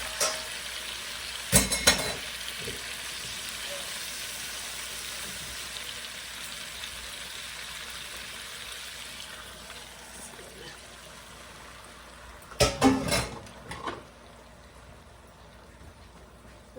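Coriander water goes into a pan of frying mrigal fish masala. A quiet sizzle runs under two bursts of pouring and stirring, one early and a longer one near the end, which set off a brief louder hiss.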